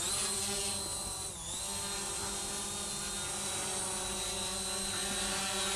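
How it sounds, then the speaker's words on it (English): Small S197 GPS WiFi quadcopter drone with its motors unlocked for automatic takeoff, giving a steady, loud, high-pitched buzzing whine that holds constant throughout, with a brief pitch dip early on. "we'll unlock the motors, and we'll do automatic takeoff."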